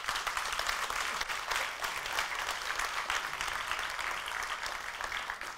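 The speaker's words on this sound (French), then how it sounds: "vous demander de bien vouloir les applaudir" Sustained applause from an audience at the opening of an anniversary conference on mental health, a dense, even patter of many hands clapping that holds steady throughout, with no speech above it.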